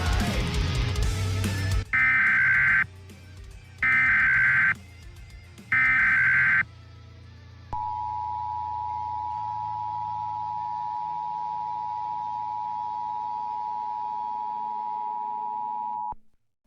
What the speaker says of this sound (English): the EAS, or the Emergency Alert System, was built to warn us of either ongoing situations or emergencies that were going to occur